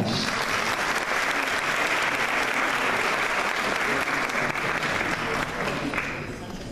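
Steady, dense applause fills a concert hall from a large audience at a Turkish classical music choir performance, loud and continuous throughout before thinning slightly at the end.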